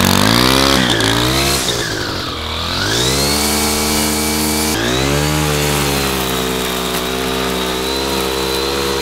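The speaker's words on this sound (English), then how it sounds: "It's my brand new weed whacker" A brand new weed whacker engine runs loud and close, a steady high-pitched two-stroke whine that dips briefly in revs and then holds again.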